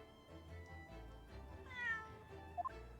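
Cat meowing in The Great Ace Attorney video game, a few tonal game-audio meows rising over background music, the last two short and close together near the end.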